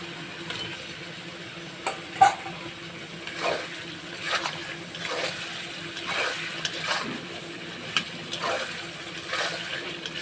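Pointed gourd frying and being stirred in spiced oil for a Bengali recipe, heard as a quiet, low sizzle with soft, evenly spaced stirring scrapes about once a second and an occasional louder knock, with no voices.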